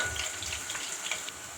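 Garlic and onion fry in oil in a pan for adobong talong, a dense steady close sizzle with light crackling pops throughout.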